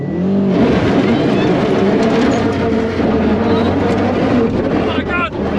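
A Subaru WRX on rally tires launches hard, its engine roaring loud and close with a sustained rush of tire and road noise, voices faintly underneath.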